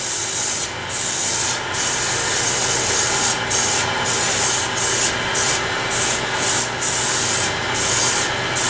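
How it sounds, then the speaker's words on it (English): Final sanding of a turned wooden Windsor chair leg spinning on a lathe: a continuous hissing rub over the motor's drone, broken by short regular gaps as the abrasive is lifted and pressed back on. "Final sanding."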